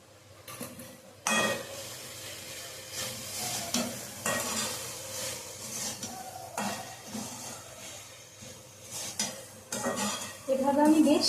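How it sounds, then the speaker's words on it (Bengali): Banana flower curry is sautéed with salt in a pan, a spoon scraping and knocking against the pan in irregular strokes over a soft sizzle, ending with a louder burst of frying. "এভাবে আমি বেশ খানিকক্ষণ মোচাগুলো কষিয়ে নেব"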